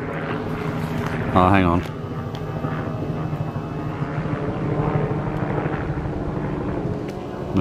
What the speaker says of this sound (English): And this is a traffic helicopter.